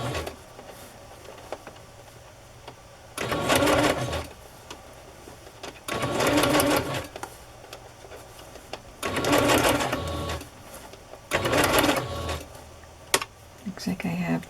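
A sewing machine stitches fabric for a rustic decorated journal in four separate runs of rapid whirring, each about a second long, with quiet pauses between them.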